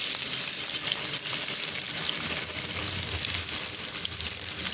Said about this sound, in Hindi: हमने सरसों का तेल डाल के तो डाल दिया जिसमें प्याज और आलू मिलाएगा।